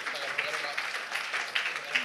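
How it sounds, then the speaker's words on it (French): Audience applause at a presentation event, a steady, moderate clapping from a group with a few sharper individual claps standing out, heard briefly at medium distance. "On peut tous l'applaudir."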